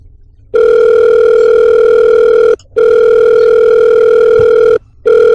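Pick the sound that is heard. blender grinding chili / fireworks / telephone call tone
telephone call tone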